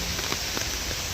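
Steady rain falls at a Vipassana meditation centre in Bhopal, an even, close hiss with faint drips and no voices.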